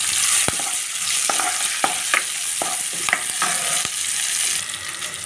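Cumin and dried chillies fry in hot oil in a pan for an ivy gourd chutney, giving a steady close sizzle broken by several sharp clicks and scrapes from a stirring spoon.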